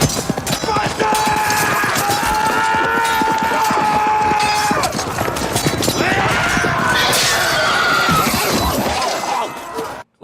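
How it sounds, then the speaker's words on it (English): Horse whinnies rise out of a chaotic video game battle, with long neighing calls over constant clashing, hoofbeats and crowd noise, loud and dense throughout before cutting off at the end. "Saruman actually managed to win the fight against Arnor and kill his horse."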